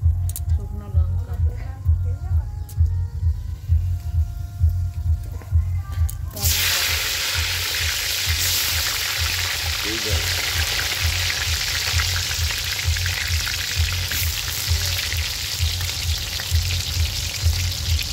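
Cumin seeds and dried chillies are dropped into hot oil for chicken biryani and burst into a loud, close, continuous sizzle with a low rhythmic hum beneath.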